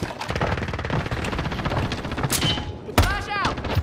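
Gunfire in Call of Duty: Modern Warfare comes as dense rapid bursts of automatic fire, steady and loud at first, then a sharp burst near the end, with voices talking over it.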